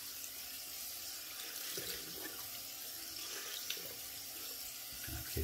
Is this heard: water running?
yes